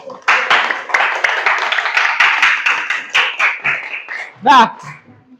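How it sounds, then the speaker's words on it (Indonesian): A classroom group gives applause after a student group's presentation on making magnets, steady dense clapping from many hands lasting several seconds, then tapering off with a brief voice at the end. "Tepuk tangan buat kelompok 2 ya."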